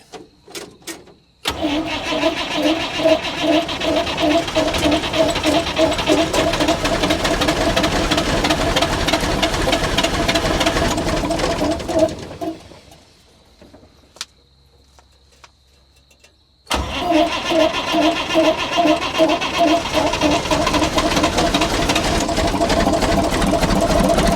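The diesel engine of a 50-year-old International 6x6 army truck cranks loudly and rhythmically for about ten seconds, goes quiet for a few seconds, then cranks hard again until the end.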